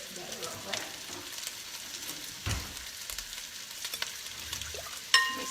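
Sausage browns in a pan with a soft, steady frying sizzle, broken by a few scraping stir sounds and a sharper clink near the end, all at low level with no talk.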